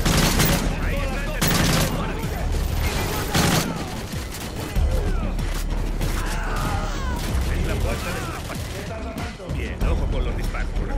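Dense, rapid gunfire crackles throughout amid busy action in Call of Duty: Modern Warfare 3, with bursts of shots layered over a constant roar of noise.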